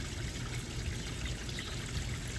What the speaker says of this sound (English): I see some water trickling